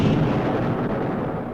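A cartoon explosion in an Ultraman show, a continuous loud, rumbling blast with a crackling low roar that holds steady through the whole moment and fades only slightly at the end.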